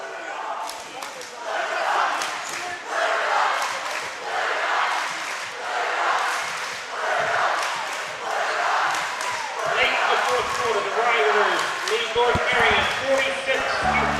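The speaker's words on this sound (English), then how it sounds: "The crowd's fired up." A crowd and student section at a high school basketball sectional playoff game cheer loudly during a timeout, with surging roars and scattered whoops, while commentators talk over the noise.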